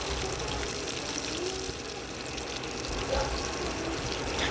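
Breaded chicken frying in very hot oil gives off a loud, steady sizzling hiss that runs unbroken the whole way through, with no voices.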